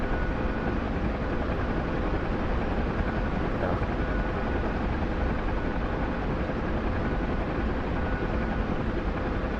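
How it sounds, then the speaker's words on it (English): Mi-28 attack helicopter in a combat video game, a steady dense rotor and engine drone holding constant and fairly loud throughout, with no talk over it. "Looks like there's an Mi-28 somewhere."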